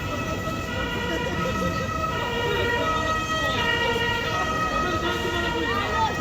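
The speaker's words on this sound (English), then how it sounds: "usual sound of sirens" Emergency vehicle sirens wail steadily on Avenida Mediterráneo in Benidorm, loud and continuous with a layered tonal pattern over road traffic noise.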